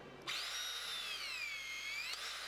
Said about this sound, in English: using an electric shear wrench of sufficient capacity, systematically install each bolt in the connection through tip shear